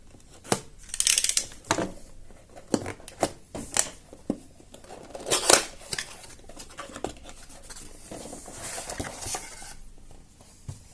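Scissors slice open the factory seal on an Intel i7-12700F CPU box, a run of short close snips and cardboard scrapes with brief rustling in between, irregular and fairly quiet.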